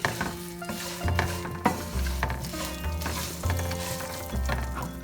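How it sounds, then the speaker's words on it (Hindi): Poha chivda tossed with roasted seeds in a pan gives rhythmic dry rustling and scraping, spoon strokes repeating about every second over a light crackle, close and unaccompanied by speech. "मिक्स कर देते हैं अच्छे से"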